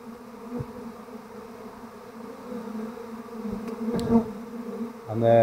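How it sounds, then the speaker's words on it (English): Steady, droning buzz of many honeybees flying about an apiary near empty hives, close by and continuous, with a few brief knocks and rustles. "you can see a lot of bees in the air"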